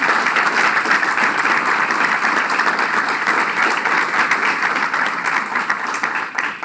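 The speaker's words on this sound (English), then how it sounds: "Let's give him a round of applause." Loud, sustained applause from a large crowd at a New York political campaign event, a dense, continuous roar of clapping that holds steady for several seconds before easing slightly at the end.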